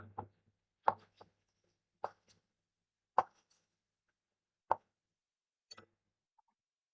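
Knife dicing tomatoes into small pieces on a cutting board for an octopus pasta dish: sparse, separate chopping taps, about seven soft knocks spread unevenly, close and quiet with silence between.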